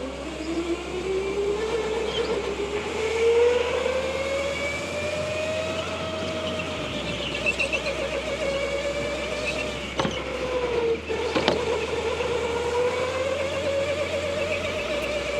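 Go-kart engine in a racing video game, a steady droning whine that rises and falls in pitch continuously, loud and close throughout with no talk over it.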